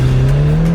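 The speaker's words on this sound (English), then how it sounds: "So we're going to make it fair by doing a rolling start and actually test how fast the car is." A 400 hp Nova car accelerating hard from a rolling start in a drag race against a Porsche 992 GT3RS, its engine a loud, sustained roar holding a steady pitch over the brief moment.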